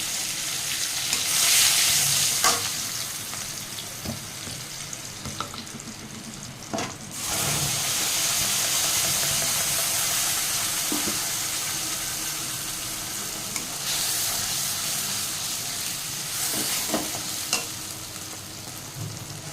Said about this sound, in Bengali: এখন মশলা দিয়ে ভালো করে কষিয়ে নেবো